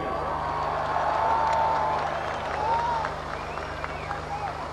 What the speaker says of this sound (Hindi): हाथ खड़ा करके तालियां बजाओ उनके जज्बे के लिए